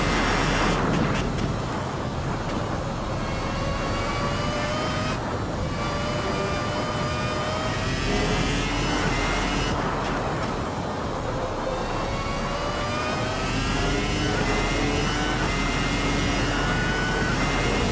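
A high-revving Formula RSS 2000 V10 racing engine in the Assetto Corsa racing game screams continuously, its pitch climbing through the gears and dropping at each shift, loud and unbroken throughout.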